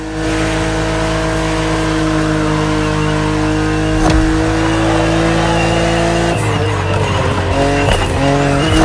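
A BMW Z roadster races in The Crew Motorfest, its engine droning loud and steady with tire squeal over it, then the pitch shifts and a few gear changes break the tone near the end.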